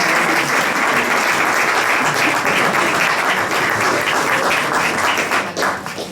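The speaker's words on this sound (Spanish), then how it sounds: "les voy a pedir un fuerte aplauso para Juan Díez del Corral." An audience at a Rioja wine tasting for Bodegas Díez del Corral bursts into loud, sustained applause, dense clapping filling the room throughout before tapering slightly at the end.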